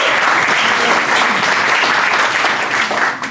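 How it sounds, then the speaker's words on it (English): Rotary Club meeting audience at Joe's Palm Room breaks into loud, dense, sustained applause that fills the room and tapers slightly at the end. "I want to give them a round of applause for all they do for"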